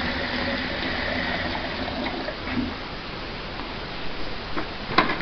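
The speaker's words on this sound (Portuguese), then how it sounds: "Então você vai colocar no liquidificador aproximadamente 1 litro de água." About one litre of water is poured into a blender, a steady rushing, gurgling liquid stream that continues throughout at moderate loudness, with a few small knocks near the end.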